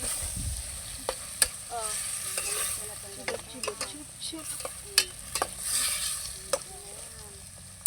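Mushrooms for pasta sautéing lightly in a pan, with steady sizzling and frequent sharp clinks and scrapes of a utensil stirring against the metal; a voice briefly exclaims once.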